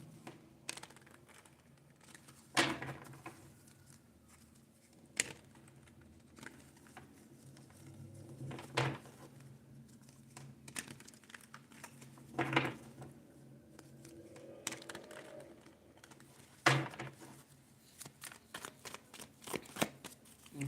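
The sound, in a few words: shuffling tarot cards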